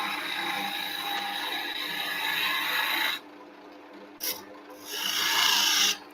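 A gouge cuts wood on a lathe spinning at about 1600 RPM, making a loud, steady rasping scrape that drops out for about a second, returns as a brief burst, then swells again near the end.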